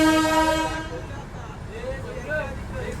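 Darjeeling toy train sounding its horn: a long, clear tonal blast opens the clip and fades out, followed by rumbling ride noise with people talking over it.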